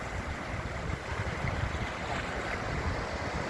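Rough storm sea at Perkins Cove, Ogunquit, churns in a steady broadband wash of surf and water, mixed with gusting wind buffeting the microphone, fairly faint and continuous with no voices.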